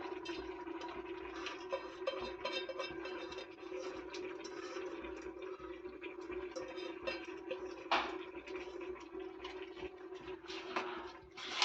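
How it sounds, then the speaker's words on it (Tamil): Water pours steadily into rice for a mushroom biryani in a continuous gurgling stream, close by, with a brief louder splash partway through. "இப்போ இது வந்து ஒன்றரை படி அரிசிக்கு மூணு கப் தண்ணி ஊற்றணும்"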